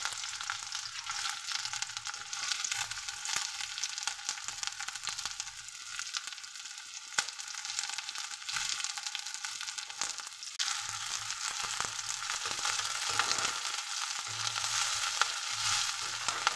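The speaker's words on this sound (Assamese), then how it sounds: "তেলখিনি গৰম কৰি জলকীয়া পিঁয়াজখিনি দি দিলোঁ" Sliced onions and green chillies fry in hot oil, a continuous close hiss and crackle that runs steadily throughout, with occasional faint scraping, and no talking.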